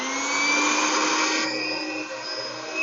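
Electric mixer or blender whirring steadily through donair sauce of condensed milk, garlic and vinegar, a loud continuous motor whine that dips slightly near the end, with no talk.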